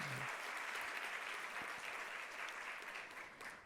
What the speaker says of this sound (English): Give her a round of applause so I can tell her you did.